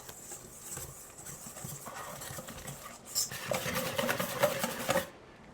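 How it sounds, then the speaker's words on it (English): Whisking batter for baked buffalo cauliflower wings in a bowl: a continuous scraping, rasping whisk rhythm that grows louder and quicker toward the end, with no talking. "Now I'm going to whisk it all together."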